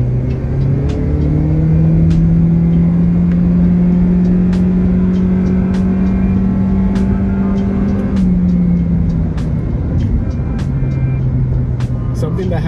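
A 2024 Toyota Prius LE accelerates smoothly with a steady, rising hum and no gear changes, the drive sound continuous and close, with voices talking over it.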